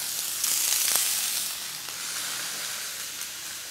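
Whole cherry tomatoes hit a hot pan with steady, close sizzling that swells briefly as they go in, then settles into a continuous frying hiss; no voices.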